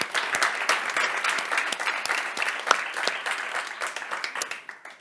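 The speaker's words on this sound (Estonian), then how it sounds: "teeme aplausi meie debateerijatele." A crowd at an Estonian election debate applauds the debaters, sustained dense clapping that gradually thins and fades toward the end.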